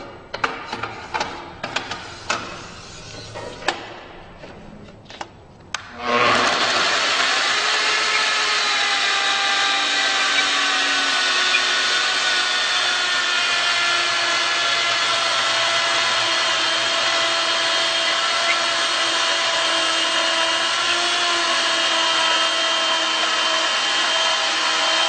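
Mafell ZSX Ec/400Q chain saw cutting a 45-and-45 compound miter in wood: a few faint knocks, then the saw starts abruptly and runs a loud, steady, high-pitched buzzing cut, close and alone.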